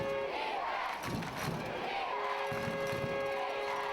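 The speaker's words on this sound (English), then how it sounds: "Mandeville's home crowd, again, a sizable crowd. They're trying to cheer on their squad." Home crowd cheering at a Mandeville High School football game against Northshore, a distant, diffuse roar of spectators with rising swells, under a commentator's speech.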